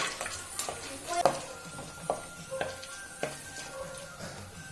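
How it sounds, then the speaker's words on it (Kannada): Black peppercorns pop and splutter in hot fat in a pan while cooking pongal, a scattering of sharp little crackles and clicks over a low sizzle, fairly close and moderately quiet. "ಒಂದು ಸ್ಪೂನು ಕಾಳು ಮೆಣಸು ಮೆಣಸು ಸಿಡಿಬೇಕು"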